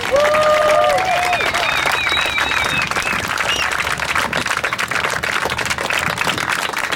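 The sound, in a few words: applause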